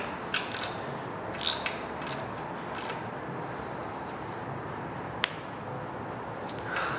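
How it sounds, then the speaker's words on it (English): A small ratchet snugs 8mm oil pan bolts into the aluminum housing of a 5.3L LS LM7 V8 engine. It gives rapid, steady clicking with a few sharper metallic ticks, close and moderately quiet, and no one speaks. "I have a very small ratchet right now. I'm just going to snug those up."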